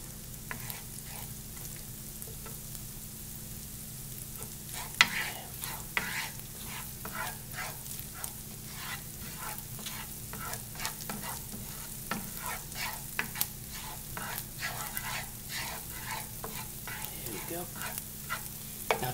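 Ingredients for tarako spaghetti fry in a pan with a soft steady sizzle, broken by frequent light clicks and stirring taps throughout, no one speaking.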